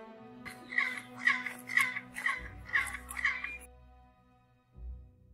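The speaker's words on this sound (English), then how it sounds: "A single clap at the foot of the staircase produces an echo that returns from above." A single hand clap at the foot of a stepped staircase returns as an echo from above, a string of about six sharp chirping pulses like a quetzal bird's cry, fading out with low rumble beneath.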